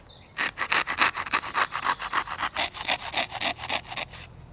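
A handsaw cuts through a wooden blank while carving a butter knife, about twenty loud, close, evenly paced rasping strokes in a steady back-and-forth rhythm, alone without talk.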